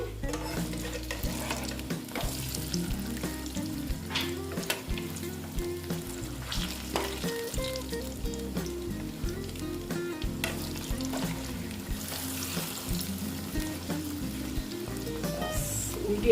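Flattened rice (chira) frying in oil in a pan for a snack, a steady sizzle with occasional stirring, running continuously beneath tonal background music.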